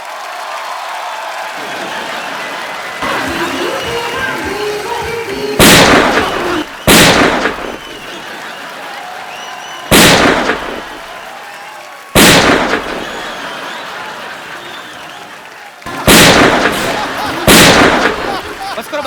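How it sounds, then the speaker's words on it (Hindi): Sharp gunshot-like bangs ring out in a stage setting, one after another and in pairs, loud and close, over background crowd noise, music and voices. "बस करो भाई, 6 गोलियां 12 मार दी आपने।"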